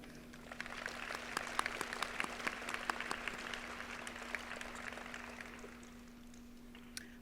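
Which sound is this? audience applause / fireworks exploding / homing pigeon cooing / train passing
audience applause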